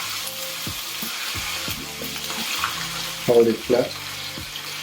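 A steelhead trout fillet sizzles skin side down in a hot pan, a steady crackling hiss under a brief spoken instruction, with a few louder bursts as it settles.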